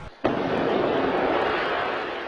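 A bomb blast in New York City on a Saturday night hits as a sudden sharp boom after a brief hush, then a sustained loud roaring rush that slowly fades.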